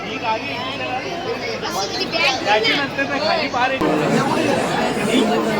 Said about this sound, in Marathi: इथं जायवल काढण्यासाठी गर्दी बघा,